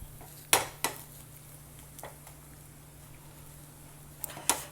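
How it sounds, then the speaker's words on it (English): Metal spatula tapping and scraping against a pan while an egg paratha is turned over and pressed, a few sharp clinks spread apart over a quiet low hum. "I'm going to turn it over now. Just pressing it to get that color."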